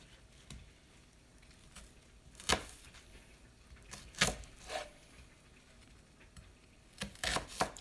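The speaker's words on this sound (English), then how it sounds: "it's a strong onion I'm getting ready to cut up." Knife chopping a strong onion for a Sunday meat loaf, a few scattered crisp cuts on a board with quiet gaps between them, close and fairly soft.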